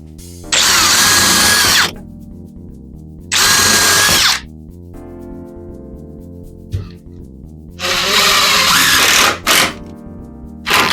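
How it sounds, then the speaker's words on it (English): A power drill whirs loudly in three separate bursts of a couple of seconds each, biting into wood while building a shelf, with quiet pauses between. "We'll drill this side out."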